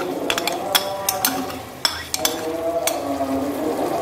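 Onion masala with yogurt stirred and fried in a pot, spoon scraping and clinking against the metal over a low steady sizzle, close and moderately loud, with no speech.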